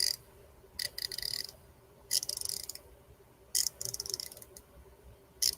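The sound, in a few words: Tekton 90-tooth ratchet clicking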